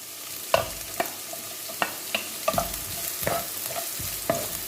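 Chopped ginger and onion frying in a pan, stirred with a spoon in a steady series of sharp scrapes and clacks, about ten strokes, over a continuous close sizzle, with no talking.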